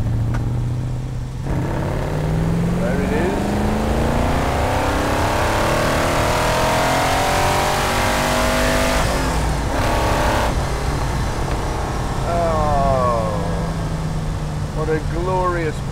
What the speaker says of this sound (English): lower the revs almost to idle and then floor the throttle